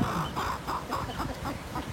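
Chickens and roosters cluck in a small flock nearby, a steady run of soft rhythmic clucks and murmurs with no talking.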